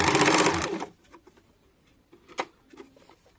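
Sewing machine stitching petticoat fabric, a short burst of loud rapid motor whirring that stops after about a second, leaving quiet handling clicks and rustles of cloth.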